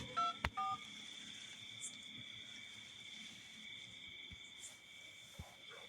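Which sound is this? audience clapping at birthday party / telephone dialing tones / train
telephone dialing tones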